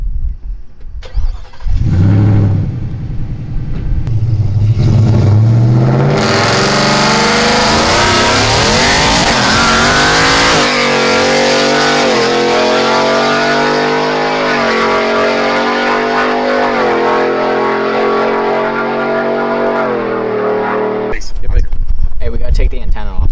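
A Whipple supercharged 2020 Ford Shelby GT500 engine revs and accelerates loudly and close, the tone climbing steadily through a long pull before cutting off near the end.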